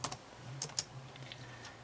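Keys clicking on a computer keyboard as an email address and password are entered: a few quick, light taps spread over about two seconds, faint against a steady low hum.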